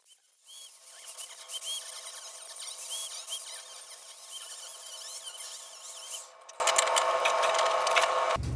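A chisel works apart a weld on a garden tractor loader frame, giving a steady, close mechanical rattling buzz that turns into a louder, harsher grinding burst near the end.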